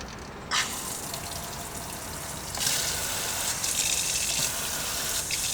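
Water gushes from a camper van faucet during a water pump test, a steady rushing stream that surges louder partway through and keeps flowing close by, with no talking.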